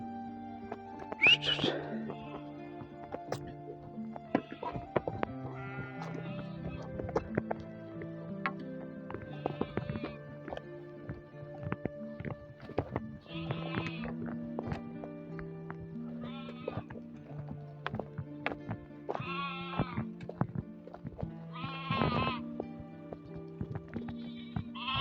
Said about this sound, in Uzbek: Qo'ylarni qaranglar qanday.